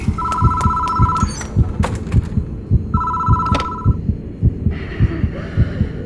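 Telephone ringing in the horror video game Death Mark: two electronic ring bursts separated by a pause, set over a loud, thumping heartbeat pulse and a low drone.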